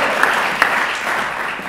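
An audience at an overseas-business conference claps together, a brief, dense burst of applause close and loud, with a couple of sharper individual claps standing out.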